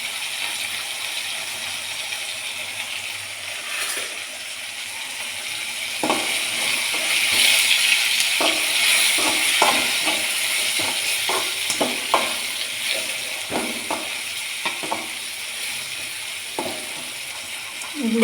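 Onion and tomato frying in a pan with a pinch of turmeric, a steady sizzle that swells midway, punctuated by repeated spatula scrapes and taps close by.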